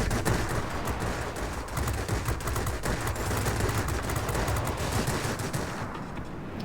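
Machine guns of a P.1056 fighter plane in World of Warplanes firing in long rapid bursts, a dense loud rattle over engine roar that carries on almost unbroken before easing off at the end.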